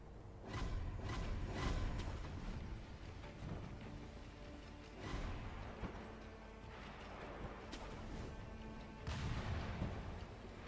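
Firecracker prosthetic bursts crackle in the Sekiro video game, several sharp popping volleys spaced through the clip over a busy game soundscape.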